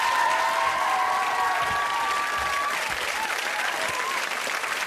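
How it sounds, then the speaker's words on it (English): A studio audience at a 1992 Blockbusters game show breaks into loud, sustained applause that fills the room evenly from start to end, with a faint tonal line running underneath. "Give them a round of applause."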